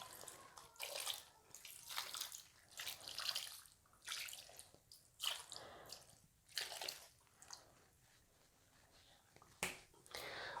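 One litre of turmeric-mixed water is poured into a large pot of commercial namkeen rosh meat, coming as faint, intermittent splashy gushes with brief pauses between them.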